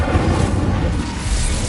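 An Incendio fire spell is cast in the Hogwarts Legacy game, giving a short, steady, low rumbling whoosh of flame. It is loud and close and lasts under two seconds, with no talk.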